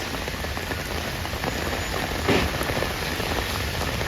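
Heavy rain pours steadily in New York City during a flash flood, a dense continuous hiss of drops hitting pavement and surfaces, close and unbroken with no voices.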